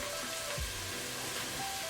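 Vegetables sautéing in a pan while Turkish food is cooked at home, a soft, steady frying hiss that stays faint and even throughout, with a low clunk partway through.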